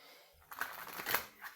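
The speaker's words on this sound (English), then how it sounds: "give the deck a more thorough shuffle" Indie tarot deck being shuffled by hand, a soft, close, quiet patter of cards riffling in a few short bursts after a near-silent start.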